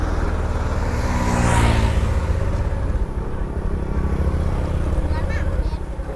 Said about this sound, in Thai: อ่ะกำเบรกสตาร์ท เอาขาตั้งขึ้น ใส่เกียร์นะตามมา